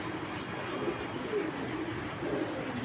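Several faint, low coos come from a large female orange chila pigeon, spaced about a second apart against a quiet, hissy room background.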